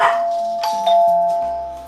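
A doorbell chimes in a descending sequence of ding-dong tones, loud and close, the notes ringing out and fading over a couple of seconds.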